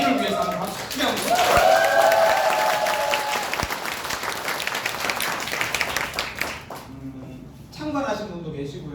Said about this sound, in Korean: 이를 위해서 한번 박수 크게 한번